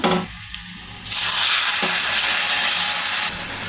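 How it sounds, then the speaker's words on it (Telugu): Tempering spices and garlic crackle and sizzle in hot oil for Andhra gongura pickle, the hiss jumping sharply louder after a second and staying intense before easing slightly at the end. "పోపు అయితే వేగిందండి చూడండి ఎల్లిపాయ కూడా వేగాలి"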